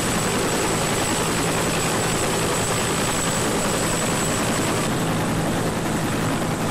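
A helicopter thunders loud and steady overhead during a naval rescue drill, its rotor roar filling the scene without a break and no voices.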